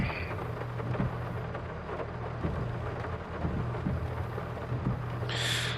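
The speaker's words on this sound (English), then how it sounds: "There's the rain." Steady rain and thunder in the video game Farming Simulator 22: a continuous, even wash of rainfall with low rumbling underneath, heard alone without any voices.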